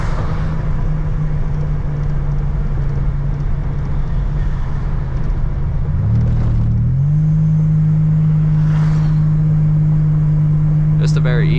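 A 1986 Buick Grand National cruises down the street, its engine a loud, steady low drone heard from inside the car, the tone shifting slightly partway through as the revs change.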